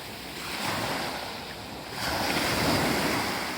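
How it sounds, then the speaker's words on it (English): Ocean waves wash onto Cheung Chau beach in steady broad surges, swelling louder midway, with a constant wind rush over the surf and no voices. "You can hear the voice of waves."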